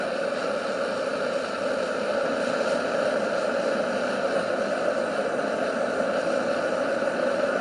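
A homemade $30 forge burner turned up high gives a continuous, steady roar with an even hum, loud and unbroken throughout, with no talking.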